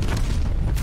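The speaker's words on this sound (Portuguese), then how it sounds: "Agora eu jogo uma granada lá." A grenade explosion in the Call of Duty Cold War video game lands as a single short, heavy low boom that rumbles loudly for under a second, with no talk over it.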